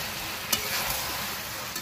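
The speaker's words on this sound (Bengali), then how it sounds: "এখন এই মশলার সাথে এই কাঁঠালগুলোকে আরও 3 থেকে 4 মিনিট সময় নিয়ে কষিয়ে নেব।" Jackfruit pieces and chopped tomato fry in a thick spice paste, giving a steady soft sizzle with a couple of light clinks of a spatula against the pan.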